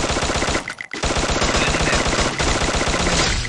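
Sustained rapid gunfire in the video game Free Fire, dense automatic bursts close and loud with one short pause near the start, then continuous firing, with no voices.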